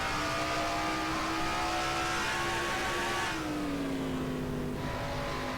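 A stock car engine in a racing video game, heard from onboard, drones loudly and continuously, its pitch holding steady and then dropping slightly as the car lifts, with no talk over it.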